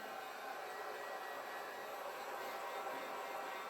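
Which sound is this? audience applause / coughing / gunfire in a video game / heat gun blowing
heat gun blowing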